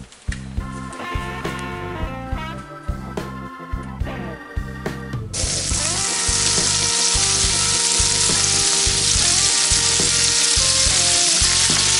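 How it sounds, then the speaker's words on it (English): Venison steak sears on a very hot cast iron grill pan: a loud, steady sizzle bursts in about midway and continues, under a rhythmic low thumping in the background. "You can let that get super hot so we can sear it."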